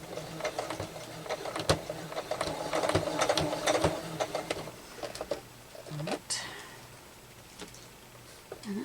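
Sewing machine running a back stitch while making a tablet bag, with steady rapid needle clatter through the first half, then short bursts and pauses; a voice talks intermittently over it.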